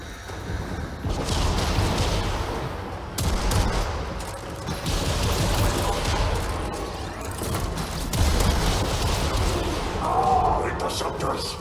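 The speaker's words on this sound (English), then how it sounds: "We're gonna have to use the side guns" Ship side guns in the video game Warframe Empyrean fire in dense, continuous bursts of gunfire and heavy thuds with mechanical clatter, loud and sustained, while voices talk throughout.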